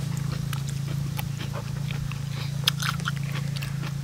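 Close, crisp crunching bites and chewing of spicy pounded apple snails repeat irregularly over a steady low hum, with a sharper crack near the end.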